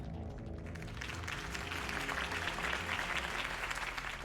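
Video-game crowd applauds a campaign speech, a steady dense wash of clapping from many hands, moderately loud and sustained throughout with no talk.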